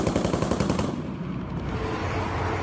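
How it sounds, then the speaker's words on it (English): Rapid machine gun fire in urban combat as Ukrainian ground forces engage Russian troops, a dense rattling burst of shots for the first second, then a sustained rumbling wash of distant fire and reverberation, loud and with no speech. "Ukrainian ground forces, they pretty much only have ground forces, engaging Russians with rocket-propelled grenades and a machine gun."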